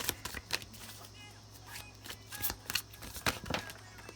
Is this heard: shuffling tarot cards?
yes